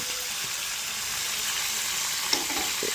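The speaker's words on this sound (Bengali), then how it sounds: "ভাজা হয়ে গেছে ফুটতেছে এখানে ফুটতেছে মশলাগুলো" Spices frying in hot oil for an olive pickle give a steady, close crackling sizzle that holds evenly throughout, with no voices.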